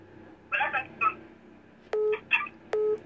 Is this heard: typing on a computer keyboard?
no